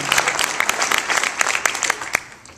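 A conference audience of suppliers, corporate members and sponsors applauds, with many individual claps standing out in a brisk, fairly close burst that thins out toward the end.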